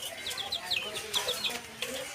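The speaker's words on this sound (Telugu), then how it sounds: "భీమవరం మెట్టవాటం పిల్లలైతే అందుబాటులో ఉన్నాయి" Two-month-old Bhimavaram young roosters cluck and chirp in short, high, repeated calls, close but soft over a faint background murmur.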